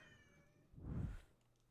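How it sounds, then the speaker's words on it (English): A pet cat gives a single meow, up close and fairly loud, standing out against quiet background hum with no talking. "Yes, kitty cat meow. I heard you."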